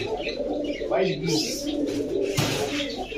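Pigeons coo softly in a loft of Giribaz and racer pigeons, low throaty calls running under a man's close conversation.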